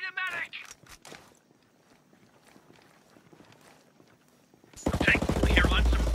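Sparse distant shots and scattered clicks in Ghost Recon Breakpoint, then a sudden loud burst of rapid automatic gunfire near the end, close and sustained.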